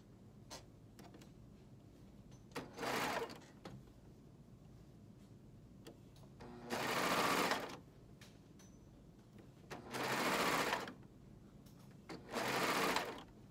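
A sewing machine stitches a T-shirt side seam in four short bursts of fast whirring, separated by quiet pauses filled with faint handling clicks.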